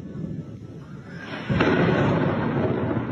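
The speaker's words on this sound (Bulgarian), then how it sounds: "Поредица експлозии и взривове огласиха нощта в Мариупол" Explosions at night in Mariupol during the war in Ukraine, a heavy rumbling blast that swells and rolls on continuously, loud and broadband, with no voices.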